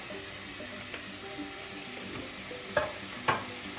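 A crushed soybean mixture is dry-sautéed in a pan with no oil, giving a low steady sizzle and a few sharp scrapes of a spatula near the end. It is close and there is no talking.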